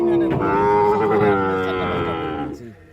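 Cattle at a rural livestock market in Birampur, Dinajpur, with a Brahman bull among the animals, give a loud, sustained low moo lasting about two and a half seconds before it tapers off, close to the listener.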